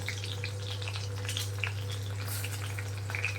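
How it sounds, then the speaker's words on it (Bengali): Potatoes fry in oil with cumin seeds and split green chillies, giving quiet, close crackling with scattered pops and spits over a constant low electrical hum. "সেই জন্য এই আলুটাকে ভাজতে দিয়ে দিয়েছি তেলের মধ্যে একটু জিরে ফোড়নও দিয়ে দিচ্ছি"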